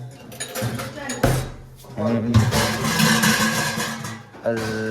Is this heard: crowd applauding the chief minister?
no